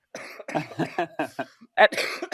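Someone recovering from an illness coughs once, loud and close, breaking into steady conversational speech that continues right after.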